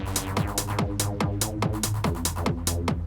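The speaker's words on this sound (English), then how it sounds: "let's open up some resonance so you can hear what that sound is doing" A techno bass synth line with its filter resonance opened up pulses in fast repeating notes, each carrying a bright resonant sweep over a deep low end, loud and alone.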